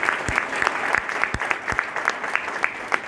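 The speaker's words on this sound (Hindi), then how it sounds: "जरा ताली बजा दो उनके लिए।" A seminar and award ceremony crowd at a yoga academy in Indore claps, with sparser individual claps standing out sharply over a steady ripple of clapping from the audience.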